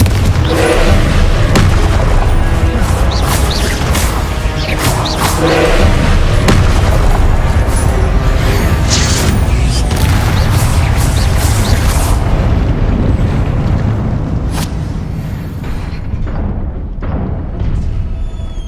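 Confringo explosion spell cast in the video game Hogwarts Legacy: loud, dense booming blasts with heavy low rumble rolling on almost continuously, thinning out slightly toward the end.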